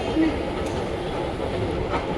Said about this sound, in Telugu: This is under ground metro.